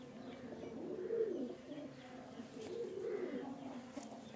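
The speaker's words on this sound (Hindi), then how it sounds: "ये सारी कबूतरी है वारसी कबूतरी" Female Warsi pigeons coo in low, soft, repeated rolling phrases, with two swelling bouts of cooing heard close by and no talking.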